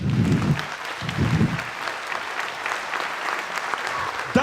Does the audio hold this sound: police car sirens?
no